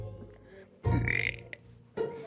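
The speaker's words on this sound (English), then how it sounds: "That is a belch." A loud, drawn-out human belch lasting about a second and produced on cue, followed by a short vocal sound and then quieter room noise.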